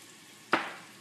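Onions hit hot ghee in a pressure cooker, a single sudden sizzle burst halfway through that fades into a softer steady hiss, close and alone.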